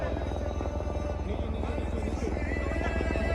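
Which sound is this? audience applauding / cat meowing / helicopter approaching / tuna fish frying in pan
helicopter approaching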